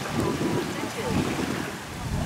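Ocean waves churning near a beach at a Riviera Cancun resort, a steady broad wash of surf with heavy wind buffeting the microphone, loud and continuous throughout.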